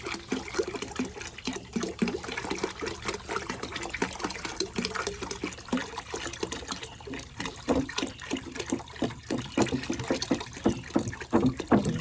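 Water pours steadily into a 5-gallon container being filled outdoors at a garden, a continuous close rushing splash with a rising, gurgling texture as the level climbs, no talking.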